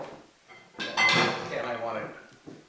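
A spoon scrapes thick batter into a bowl with clinks and dull scraping of metal against the dish, close and fairly loud for about a second, then softer knocks trailing off.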